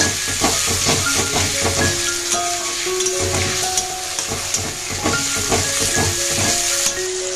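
Cauliflower manchurian fries in a pan as sauce is stirred through, a constant hissing sizzle broken by frequent spoon clinks and scrapes against the pan throughout.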